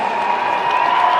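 A crowd applauds at the National Western Stock Show in a brief, steady wash of clapping and murmur with no pause.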